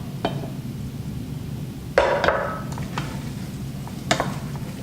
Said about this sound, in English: Give that all a quick stir